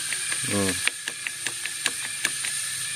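A hand ratchet clicks while tightening a clutch bolt on a Honda Revo Absolute motorcycle engine, with a quick rapid burst of clicks followed by several evenly spaced single clicks, close and clear.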